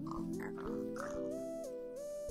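Minecraft pig oinking: a run of sustained, nasal grunting tones that step up and down in pitch, close and steady, with no voices over them.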